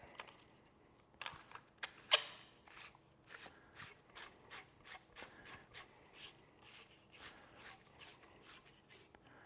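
A metal suppressor is threaded onto a gun barrel, giving close, repeated rasping scrapes and small clicks that settle into a regular back-and-forth rhythm of twisting strokes.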